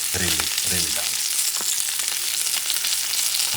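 Blackened rainbow trout sizzles steadily in a hot pan, a dense continuous frying hiss with a few soft crackles and pops near the start, close and fairly loud throughout.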